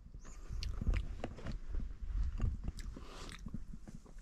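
Close, moist chewing and biting of freshly picked wild huckleberries on a mountain trail near Mount Hood, a steady run of soft crunches and mouth sounds with no talking.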